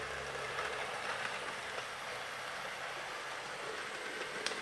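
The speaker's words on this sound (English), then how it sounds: "Here she comes. What a stunning locomotive Hornby have made here." Hornby Castle Class 'Swindon Castle' model locomotive runs on its track with a quiet, steady mechanical whir and faint rail rumble, low in level and unbroken by talk.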